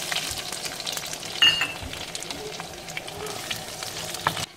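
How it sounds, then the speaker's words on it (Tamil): Shallots and fenugreek seeds fry in hot oil in a clay pot, making a continuous close crackling sizzle with occasional stirring scrapes and one brief louder clatter, with no talking. "இனி நம்ம அதில் சின்ன வெங்காயம் போட்டுடலாம்"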